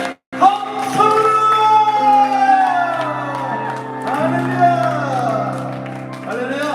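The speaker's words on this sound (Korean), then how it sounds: "우리 하나님께 영광의 박수를" A church congregation claps and cheers in praise at the close of a worship prayer, a sustained burst of applause with whoops and shouts that swells briefly and then tapers off.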